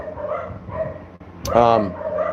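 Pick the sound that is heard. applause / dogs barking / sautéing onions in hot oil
dogs barking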